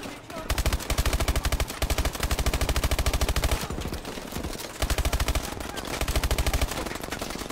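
Rapid automatic weapon fire in the shooter game Advanced Warfare, loud sustained bursts of closely spaced shots broken by short pauses, with a voice speaking over it.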